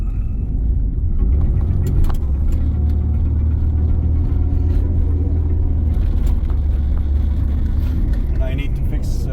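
K.I.T.T. replica car with pop-up lights driving at night over a series of speed bumps, a steady low engine rumble and road roar with bumps and thuds, heard from inside, with occasional voices.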